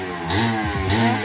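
Kawasaki KMX motorcycle engine revving up in two short bursts over a steady idle, close and loud, with harmonic pitch sweeps as the throttle opens and closes.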